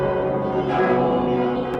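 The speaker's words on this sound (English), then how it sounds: "We have a doorbell?" A ringing doorbell in a cartoon-style scene, a sustained bright metallic chime with a steady tone that holds for the whole moment, loud and close, with no voices over it.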